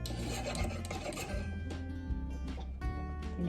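Homemade deodorant ingredients being stirred and mixed in a container, giving close, continuous scraping and rubbing strokes in an uneven rhythm, with no voices.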